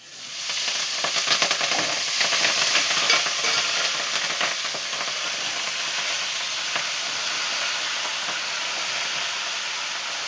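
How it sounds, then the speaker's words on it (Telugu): Tempering spices sizzle and fry in a hot pan before leafy greens go in, a steady close crackling hiss with stirring that runs for about ten seconds without any talking. "ఇప్పుడు ఇది పోపు వేసేసుకోండి"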